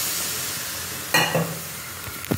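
Water poured into a pan of hot gravy sets off a sudden burst of sizzling after a quiet moment, then fades back to a gentle fizz with a brief stir near the end.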